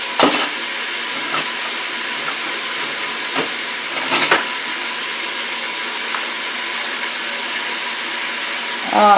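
Beef with sweet peppers and onions is stirred in a hot pan, giving a steady close sizzling hiss broken by a few sharp utensil knocks and scrapes, with no talking.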